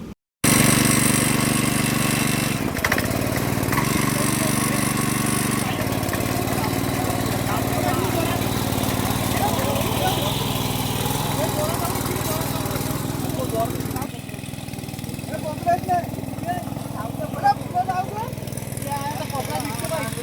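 A tractor engine works on a village ground being prepared for a ploughing competition at Harekarwadi, chugging steadily and loudly close by, then dropping a little in level toward the end, with people talking under it.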